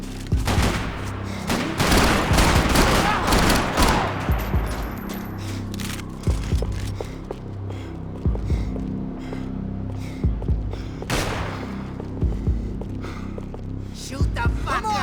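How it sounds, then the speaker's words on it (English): Dense, rapid gunfire from the PC shooter Max Payne 3: loud overlapping bursts and rattling shots early on, then scattered single shots and short volleys over a low game hum, with no talking. "Shoot till he stops moving!"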